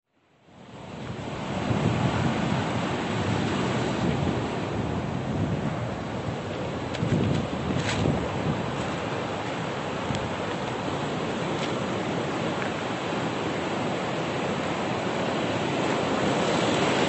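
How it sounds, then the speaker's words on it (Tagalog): Strong ocean waves at Miliga-biga Beach roll in continuously, a loud, steady roar of surf mixed with wind buffeting the microphone. "Sayang kung hindi sana malakas ang alon."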